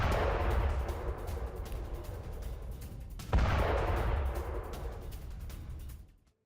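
Bridge in the Russia-Ukraine war blown up by a robotic device: a heavy, rumbling blast that roars on, swells again in a second boom partway through, then cuts off abruptly.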